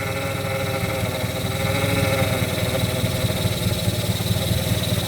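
Car engine running with a strange noise while the steering wheel is turned, a steady close mechanical drone with a faint rhythmic vibration, loud and continuous.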